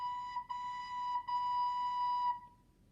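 Recorder notes played with tongued attacks, a pure steady whistle-like tone broken by two short articulated restarts, then held and ending cleanly in a quiet room.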